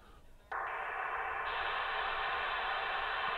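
A steady, loud hiss of CB radio static bursts in after a brief quieter moment and continues unbroken to the end.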